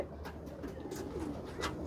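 Domestic pigeons cooing, a low soft purring rhythm repeating through the moment at close range, with faint rustling behind and no voices.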